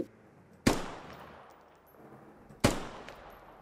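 Two sharp gunshots ring out in the Squad military video game, about two seconds apart, each loud with a long reverberant tail fading into quiet background ambience.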